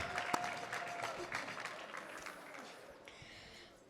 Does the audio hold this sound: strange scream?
no